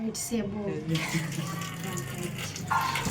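Tap water runs and splashes steadily while hair is being washed at home, a close, continuous gush with someone talking and laughing over it.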